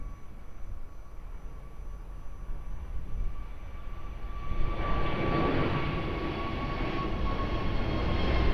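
At Lisbon Airport on runway 02, a plane's engines roar low and continuous in the distance, the thrust building and growing louder midway through as it begins its takeoff run.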